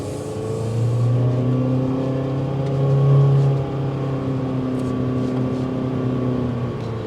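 A 2024 Honda HR-V Sport with a CVT transmission hums along on a test drive, its engine drone steady and fairly loud from inside the cabin, swelling briefly as it pulls harder before settling back.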